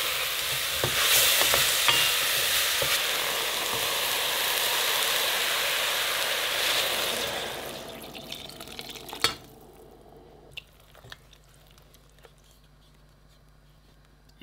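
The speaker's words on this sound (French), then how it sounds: "on va laisser dorer les champignons au moins 2 bonnes minutes" Mushrooms sizzle and fry in a hot pan as a base for lentil soup, with loud crackling and a few stirring scrapes that fade to quieter sizzling and scattered clinks after about eight seconds.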